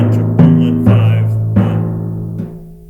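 Timpani play a short middle-school all-state excerpt in a triplet rhythm, with four resonant booming strokes that ring and fade, loud and close, with no voices.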